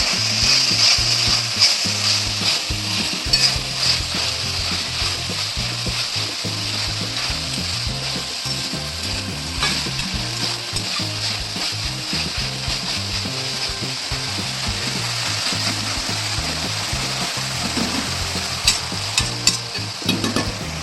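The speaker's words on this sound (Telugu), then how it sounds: "వాటర్ తగ్గిపోయి ఇది ఆయిల్లో 1 నిమిషం ఫ్రై అయితే చాలు" Mint and coriander frying in oil while being stirred in a pan, a continuous loud sizzle with clattering, ratcheting scrapes of the utensil throughout, no talking.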